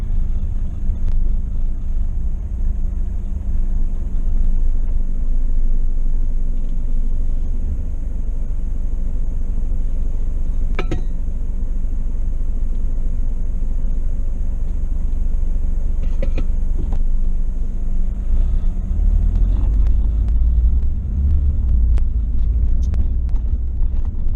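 Traffic at a busy road intersection on a triathlon bike course, heard as a constant loud low rumble of passing cars with wind buffeting the microphone and occasional brief knocks.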